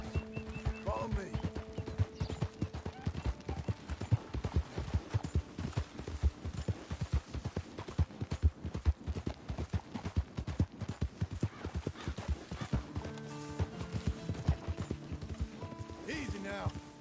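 Horse hooves gallop in Red Dead Redemption 2 with a fast, even, relentless clip-clop that runs the whole way through. Brief vocal sounds come in near the start and end.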